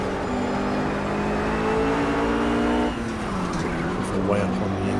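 Ruf GT3 race car engine in the Project Cars racing game at Silverstone, droning loudly and steadily with a gear change and pitch dip near the three-second mark, under a voice talking throughout.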